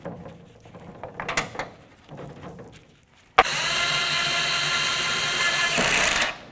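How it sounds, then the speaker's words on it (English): A power tool whirs steadily for about three seconds, driving mounting bolts into the liftgate handle cover of a 2002-09 Dodge Ram 1500, after a stretch of quieter clicks and handling noises. "We're going to start in all of our mounting bolts and then we'll snug them up."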